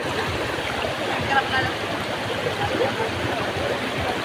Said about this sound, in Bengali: এই যে জলের মধ্যে পা ডুবিয়ে রেখেছি